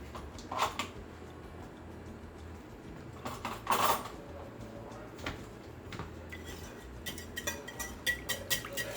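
Cheese muffin batter with milk being mixed in a bowl, a spoon scraping and clattering against the sides in irregular bursts, louder knocks early on and quicker tapping toward the end.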